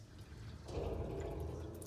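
Water runs from a hot tap with a poor, weak flow rate, giving a steady low splashing rush that swells slightly and continues without pause.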